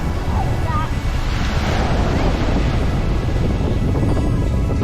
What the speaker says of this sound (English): Probably do 35 knot steady winds, up to 50 knot gusts, I reckon.